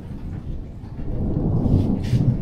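Deep, rolling thunder rumbles steadily and grows louder toward the end, with a soft wash of rain noise over it.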